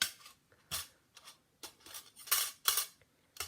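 Scissors snip through paper or card, cutting out a piece for a Nature's Harvest picture frame craft project; a series of crisp, close cuts in irregular bursts with short pauses between them, no talking.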